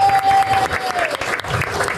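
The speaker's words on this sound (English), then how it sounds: "big round of applause for Barbara." Loud audience applause fills the space at a live show, steady clapping with a brief dip midway, while a faint tone sounds underneath.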